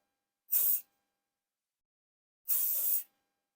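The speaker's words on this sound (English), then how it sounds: "Take your aerosol spray and spray on the top section." Aerosol hairspray is sprayed onto the top section of hair being set into waves, in two distinct hissing bursts: a short one, then a longer one about two seconds later, with silence between.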